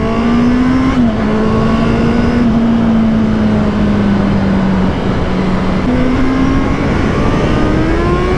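A 650cc motorcycle accelerates uphill, its engine a loud, close, sustained drone whose pitch climbs steadily and dips briefly at gear changes, with heavy wind rush throughout.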